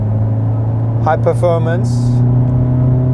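A 2022 Hyundai Elantra N engine with active sound design set to maximum in N mode hums steadily at idle, a low constant drone under a brief spoken phrase.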